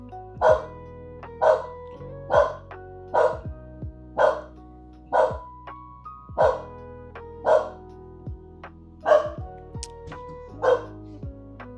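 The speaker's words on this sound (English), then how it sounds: "Sorry, my dog's having a little bit of a fit." A dog barks steadily indoors, about a dozen close, evenly spaced barks repeating roughly once a second over a low background hum, with no talking.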